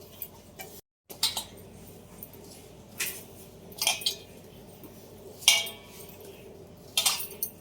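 A spoon clinks and scrapes sparsely against a bowl as fenugreek powder, soaked overnight in hot milk, is mixed for traditional methi ladoo; the taps are soft and spaced, with quiet pauses between.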